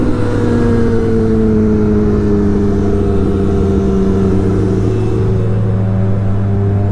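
A superbike engine revs hard during an informal race, a loud, steady, continuous mechanical roar with sustained tones that waver slightly in pitch throughout.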